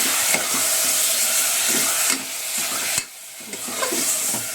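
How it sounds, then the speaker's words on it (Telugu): Yogurt and a pinch of turmeric being stirred into a chicken marinade for kabab and biryani, a steady wet scraping and mixing texture with short pauses, close and fairly loud, no talking. "ఇలా బాగా మిక్స్ వేసుకో."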